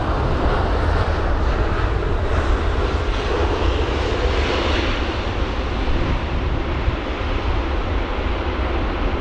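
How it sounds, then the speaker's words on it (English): A Boeing 787-8 Dreamliner lands at London Heathrow on a windy day, its engines roaring loudly and steadily in reverse thrust, a thick broadband rumble that holds at full strength throughout. "Some really loud reverse thrusts there"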